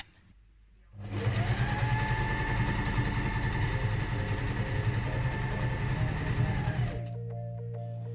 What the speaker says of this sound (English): I'm going to sew on the two front sides to this piece